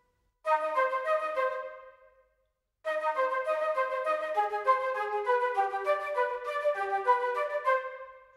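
Three flutes from a Logic Pro X orchestral patch play a sustained legato phrase in harmony, a short opening line, a brief pause, then a longer flowing passage, clear and alone with no talk.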